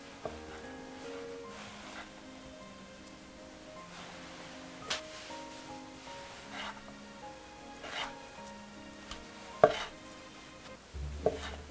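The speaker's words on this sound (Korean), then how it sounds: "치즈도 토마토와 똑같이 슬라이스 해주시면 됩니다." Fresh mozzarella being sliced with a knife for a caprese salad, a few faint cuts against the board with sharper knocks near the end, all under soft background music.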